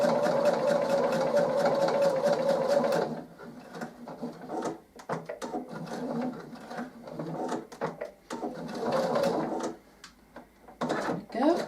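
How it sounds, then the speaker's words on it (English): A sewing machine runs in a fast, close, rhythmic stitching burst while stitching a fabric pen holder bookmark, then stops, leaving quieter handling clatter and a few shorter stitching runs under a talking voice. "Now start and finish with a couple of reverse stitches."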